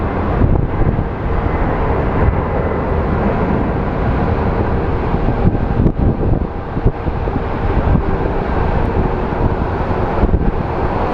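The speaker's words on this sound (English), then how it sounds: "This is gonna sound great on the YouTube," Strong, steady wind buffets the microphone at Phoenix Sky Harbor International Airport, a loud continuous roar and rumble filling the whole stretch with no voices.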